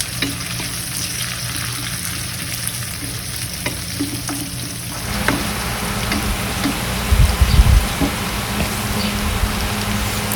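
Sliced onions and tomato fry in a pan for chicken biryani, giving a steady, crackling sizzle. Halfway through, the sizzle grows louder and fuller, with occasional scraping stirs and spatters close by.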